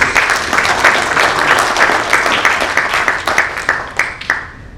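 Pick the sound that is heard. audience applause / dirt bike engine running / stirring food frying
audience applause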